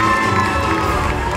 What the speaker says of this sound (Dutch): uw applaus voor Nora Ventriglia.